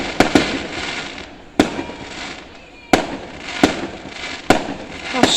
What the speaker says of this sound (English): Why is this fireworks getting let off over here?